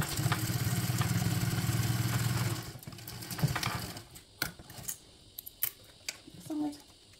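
A sewing machine hums steadily as it stitches bag gusset pieces and a divider pocket together at a quarter-inch seam, then stops abruptly, leaving a quiet room with a few small clicks.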